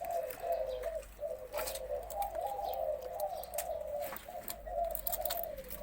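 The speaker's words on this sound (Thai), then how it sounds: "ไปฟังคลิปเสียงขันโยนของทั้งสองตัวเลยค่ะ" A spotted dove of the Si Pa type gives its cooing call in a repeated, rhythmic phrase of soft, low, rounded coos. It sounds fairly close over a faint outdoor background hum, with no talking.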